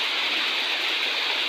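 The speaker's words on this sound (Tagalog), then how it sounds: "Ayan po siya, umuulan po siya ngayon." Rain falls steadily, a dense, close, constant hiss of water with no breaks or voices.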